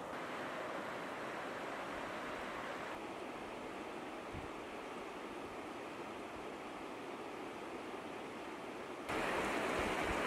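A small river runs past a wilderness campsite in Labrador, a steady, broad rushing of water heard close and alone for about ten seconds, getting louder near the end.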